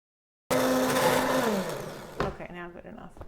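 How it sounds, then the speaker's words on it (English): A stick blender whirs loudly through tomato coconut soup with carrots. It starts abruptly and holds a steady high whine, then the pitch drops and it cuts off, with a voice speaking briefly afterward. "So I've got my stick blender."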